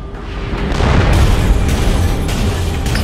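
Explosions slam into a warship in Dreadnought as a heavy, loud series of deep booming blasts and rumbling impacts that last the whole moment.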